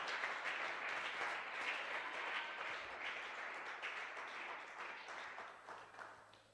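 A church congregation applauding, a dense, sustained wash of clapping from many hands heard from a distance, steady at first and then gradually fading.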